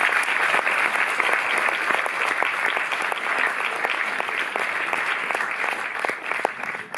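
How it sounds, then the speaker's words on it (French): Audience in a cinema hall applauding steadily and loudly, dense clapping sustained throughout with no voices over it. "Vous pouvez déjà l'applaudir très fort."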